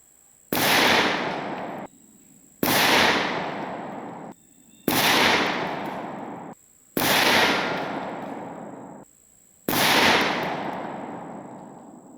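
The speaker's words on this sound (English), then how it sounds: "Federal True Flight double-aught buck, 7-inch upper, 25 yards back supported" Five loud shotgun blasts from a Genesis Arms Gen-12 with a 7-inch upper firing Federal True Flight double-aught buckshot at 25 yards, evenly spaced about two seconds apart, each a sharp crack with a long ringing decay outdoors.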